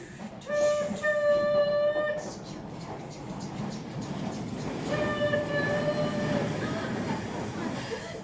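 A train sounds its horn in two long blasts over a rumbling, rolling rail noise, loud and close, with the rumble continuing between and after the horn calls.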